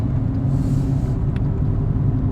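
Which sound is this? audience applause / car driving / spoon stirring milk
car driving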